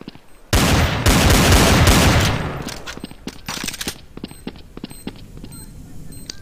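Counter-Strike: Source gunfire on Dust 2 erupts in a loud, dense burst of automatic fire, then thins into scattered sharp shots and clicks, with a voice speaking over part of it.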